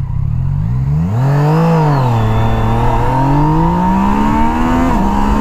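A Yamaha Niken three-wheeled motorcycle accelerates hard from a standstill, its loud close engine note climbing steeply through the gears, with a brief dip at each shift and steady wind noise underneath.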